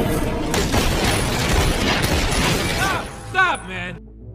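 A dense burst of rapid gunfire from a film crackles for about three seconds, then cuts out, followed by a voice speaking briefly.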